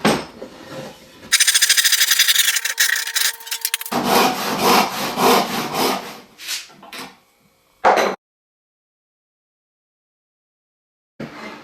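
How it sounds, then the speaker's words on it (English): Handsaw cutting notches into oak for a portable workbench vise face, loud rapid rasping strokes up close, then slower scraping passes, a brief burst, and silence before a last faint bit of sound. "I went ahead and notched the areas of where I need to cut out so that the vise face can rest"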